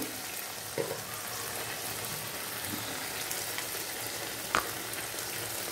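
Ground coriander, cumin and chili powder sizzle steadily in hot oil in a pan, a soft continuous frying hiss with a couple of faint clinks from stirring.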